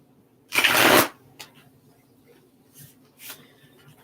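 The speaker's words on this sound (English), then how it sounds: "Shuffle these ones here" A crisp riffle of tarot cards being shuffled by hand during a live reading, one loud burst followed by a few lighter flicks and card taps, close to the microphone.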